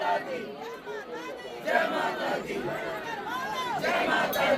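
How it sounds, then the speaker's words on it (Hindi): Dense crowd chatter fills a packed, humid temple courtyard during evening aarti in Ujjain, a steady continuous murmur of many voices with occasional louder calls rising from the throng. "तो भाई कुछ इस तरीके की भीड़ है इस समय, काफ़ी ज़्यादा भीड़ है।"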